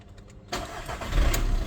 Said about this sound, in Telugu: ఇంజన్ స్టార్ట్ చేస్తున్నాను, చూడొచ్చు మీరు.